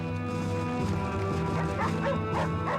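A dog yips and whimpers in a string of short, excited sounds, close and fairly loud against a steady tonal background, with no talk over it.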